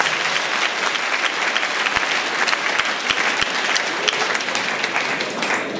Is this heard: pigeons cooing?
no